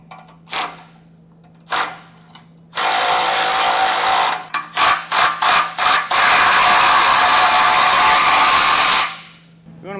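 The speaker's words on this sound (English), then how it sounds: "we can switch over to a 3/4 inch socket and wrench and snug up these side bolts" A ratchet with a 3/4 inch socket snugs up the side bolts of a Blue Ox base plate on a 2024 GMC Canyon, heard as loud, close bursts of rapid clicking, some short and choppy and some sustained for several seconds.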